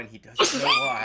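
A single sneeze bursts out, followed immediately by a person talking.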